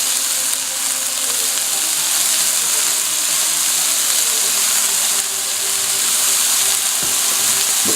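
Chicken stir-frying in a hot pan, salted with kosher salt, gives a loud, continuous close sizzle with a faint scrape of stirring near the end, and no one talks.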